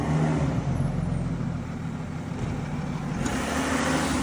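A new Chevrolet Silverado diesel pickup, a twin-turbo Euro 6 engine with a full stainless steel exhaust, idles with a steady low rumble, loud and near, with a slight swell in revs about three seconds in.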